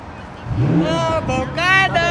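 A supercar engine revs at a supercar meet, rising in pitch in a couple of bursts amid crowd noise, with people talking over it.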